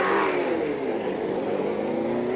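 A V8-engined 350Z with an LS engine at a Cape Town hill-climb speed event, a loud, close, continuous engine roar as it accelerates hard, with no talk.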